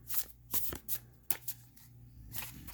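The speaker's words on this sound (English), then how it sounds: "best shuffle out of all my decks" A tarot card deck shuffled hand over hand, close and quiet, a series of soft papery slides and flicks in an uneven rhythm, with no talk.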